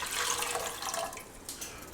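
Water runs steadily into a cooking pot for a garlic, thyme and butter corn boil, a continuous close splashing pour that thins out toward the end.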